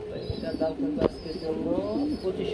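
Pigeons coo continuously in close, soft, rolling calls at a busy pigeon market, with many birds overlapping under a steady murmur of people talking nearby.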